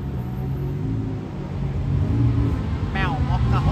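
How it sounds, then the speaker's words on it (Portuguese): Red Ferrari driving past on a street at night: a loud engine rumble swells as it nears, with voices and a brief whistle-like sound near the end. "O carro vermelho tá mais. É uma Ferrari, meu."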